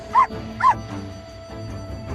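A dog gives two short, sharp barks close by, followed by softer whimpering yips trailing off, with no speech.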